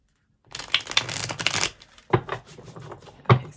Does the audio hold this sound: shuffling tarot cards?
yes